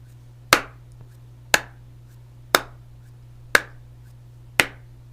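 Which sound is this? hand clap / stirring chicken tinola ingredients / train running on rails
hand clap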